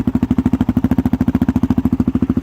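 A 2013 Suzuki DRZ400SM single-cylinder motorcycle engine idles on its first start, a steady rapid low thumping pulse held close and loud throughout with no talking.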